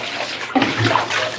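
Water runs and splashes as clothes are rinsed by hand with soap, a moderate gush that swells and shifts as the fabric is moved, close and without talk.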